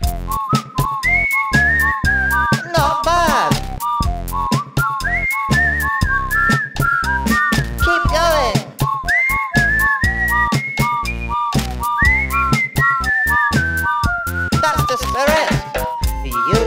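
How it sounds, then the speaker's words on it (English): Someone whistles into a musical mug, producing a rapid melodic run of short, bright pitched notes that rise and fall in a lively tune, loud and close throughout. "There's a secret taste if you purse your face and whistle for your drink."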